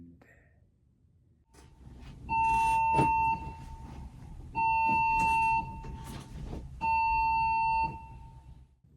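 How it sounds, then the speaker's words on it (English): A fire alarm sounding at a workplace during a night shift: three long, loud, steady tonal blasts, each about a second long, separated by short gaps, over background room noise. "the fire alarm went off"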